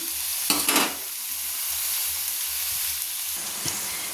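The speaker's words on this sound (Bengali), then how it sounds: "পেঁয়াজটাকে লাল লাল করে ভেজে নিচ্ছি" Chopped onions frying in a pan and being browned, with a steady soft sizzle and a couple of brief stirring scrapes near the start and end, close by with no voices.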